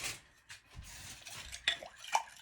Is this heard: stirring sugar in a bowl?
yes